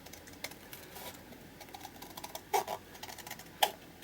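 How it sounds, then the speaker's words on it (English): Scissors snip through paper while cutting out a tag shape, soft irregular crisp clicks and rustles with a couple of sharper snips standing out over quiet room tone. "all I have to do now is just trim round and cut out the shape of the tag"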